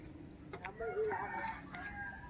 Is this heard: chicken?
yes